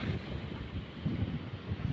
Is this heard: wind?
yes